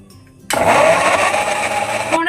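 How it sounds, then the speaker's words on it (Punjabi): A kitchen mixer grinder starts abruptly and whirs loudly and steadily as it purees ripe mangoes, running close up for about two seconds before cutting off. "ਹੁਣ ਅਸੀਂ ਇਹ ਵਾਲੇ ਅੰਬਾਂ ਨੂੰ ਮਿਕਸੀ ਵਿੱਚ ਪਾ ਕੇ ਤੇ ਪਿਊਰੀ ਬਣਾ ਕੇ ਤਿਆਰ ਕਰਾਂਗੇ"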